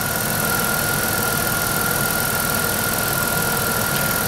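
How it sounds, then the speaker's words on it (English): Steady, loud drone of a 1998 Chrysler engine running with the AC compressor clutch engaged, a constant broadband roar with a thin steady whine on top that stays unchanged throughout. "Compressor clutch is engaged, it's nice and quiet."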